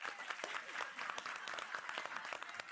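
A studio audience on a French-language TV game show claps to vote on whether a sweater is ugly, a brisk, fairly loud burst of many hands clapping throughout.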